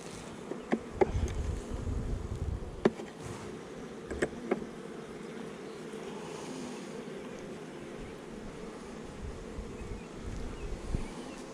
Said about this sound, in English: there's a good number of bees down there